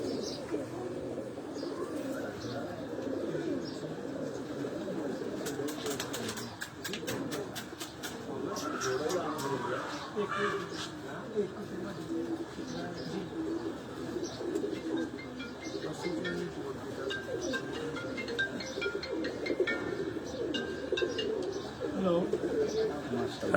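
Black-faced rooftop pigeons, a male and a female, coo in soft, low, repeated calls close by, with someone talking over them for much of the time.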